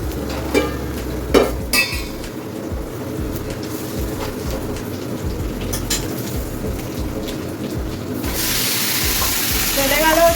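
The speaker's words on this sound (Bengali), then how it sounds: "চলে গেল চিকেন কড়াইয়ে" Chicken hitting a hot oiled wok, a loud crackling sizzle with sharp spits and pops that swells and churns through the stretch, brightening near the end, with a voice briefly in the background.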